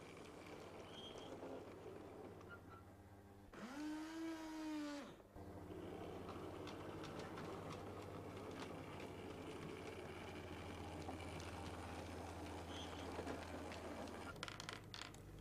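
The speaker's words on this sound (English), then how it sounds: "A supply train comes in from the storage sidings on its way to deliver beams and other materials to the works." A model railway supply train hauling beams and materials rolls in from storage sidings with a steady low mechanical running hum and clatter, broken by a brief tonal whine or whistle-like burst partway through.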